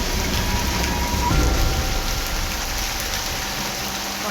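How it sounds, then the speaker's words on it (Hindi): Heavy rain pours steadily in a thunderstorm, a dense even hiss with a soft low rumble swelling briefly near the middle and no voices. "आसमान में बिजली चमक रही थी और बहुत तेज बरसात हो रही थी।"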